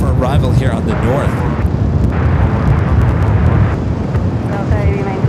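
A Lufthansa Boeing 747 jet takes off at LAX in gusty wind, a loud roaring engine rush with wind buffeting the microphone and a voice talking over it.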